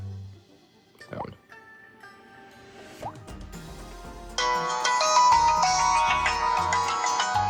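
Built-in ringtone of a Samsung Galaxy S3 smartphone playing through its small speaker, starting with soft drip-like tones and then a bright, harsh-sounding melody with repeating notes, close and moderately loud.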